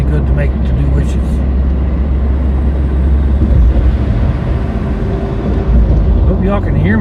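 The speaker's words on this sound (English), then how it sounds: "Hope y'all can hear me with that big old truck over there." A big old truck runs nearby outdoors, a loud constant low rumble and engine drone that fills the whole stretch without letup.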